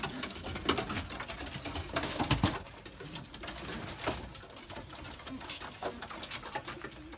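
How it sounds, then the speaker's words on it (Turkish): Ankara pigeons cooing at a coop, soft repeated coos amid rustling and wing patter, close by, with no one speaking. "Ankara güvercini."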